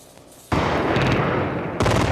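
Iraqi air defense anti-aircraft guns firing into the night sky over Baghdad, a sudden loud, dense roar of rapid gunfire that holds steady, dips briefly, then surges again, with no talk over it.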